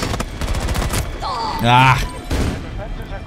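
Gunfire in a video game firefight, with a shotgun blast among the shots, cracking out repeatedly and close under a man's exclamation and game chatter.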